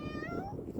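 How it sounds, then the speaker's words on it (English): A neighborhood cat gives a single short meow close by, fairly soft against a low background murmur. "This is my neighborhood cat, y'all."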